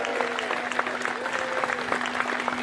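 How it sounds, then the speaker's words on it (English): A crowd at an outdoor peace and freedom rally applauds steadily, with a sustained tone and some voices mixed into the clapping. "So I'd like a round of applause for them."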